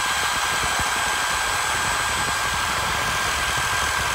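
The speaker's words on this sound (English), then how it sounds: "Out to the vise. Get the sawzall." A reciprocating saw cuts through a sand-cast brass plaque clamped in a vise. It makes a loud, continuous buzzing drone with a fast, rough stroke chatter underneath and holds steady throughout, with no talking.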